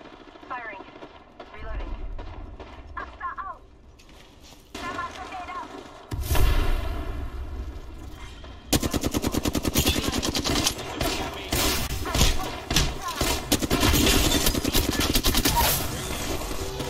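Weapon fire in the battle royale game Apex Legends, bursts of gunshots and heavy blasts building into sustained loud shooting, with players talking over the action.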